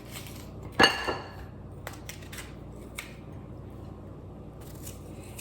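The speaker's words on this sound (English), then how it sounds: "I am going to cut up this apple" A knife cuts up an apple in a kitchen, one crisp close slice followed by a few faint scattered clicks against a quiet background.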